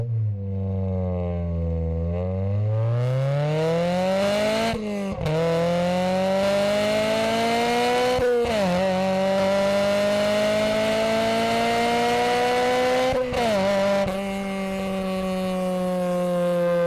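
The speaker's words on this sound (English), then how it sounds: "I can use literally all of the revs, and so far it is idling a lot better." A Honda Civic EP3 Type R four-cylinder engine revs hard and close, its pitch climbing through the range in repeated surges with brief drops between shifts, loud and continuous with no voices over it.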